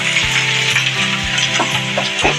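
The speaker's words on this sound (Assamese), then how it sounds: "পিঁয়াজখিনি ভাজা হৈ গ'ল মাংসখিনি এৰি দিলোঁ" Duck meat sizzles steadily in a pan of fried onions, a dense close frying hiss with periodic stirring scrapes and clunks of a utensil, no talking.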